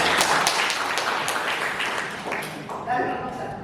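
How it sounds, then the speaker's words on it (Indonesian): Students clapping in a classroom, a burst of quick, close hand claps that tapers off over a few seconds before a voice begins speaking over the fading noise. "Tepuk tangan"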